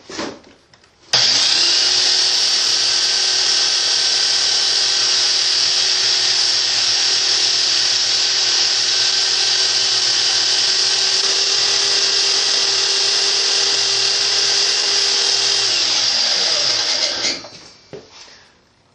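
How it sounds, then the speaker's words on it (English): A handheld belt sander with a very fine grit belt, sanding metal, starts abruptly, whines at a steady high pitch for about fifteen seconds, then winds down and stops; loud and close. "handheld belt sander. I put a very fine grit sanding belt on it"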